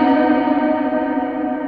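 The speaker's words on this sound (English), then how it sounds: "Basically I've got a normal reverb." A sustained, heavily reverberated tone rings out with dense, even harmonics, the normal reverb in REAPER's ReaVerb smearing it into a long, washing tail that fills the short stretch without any voice.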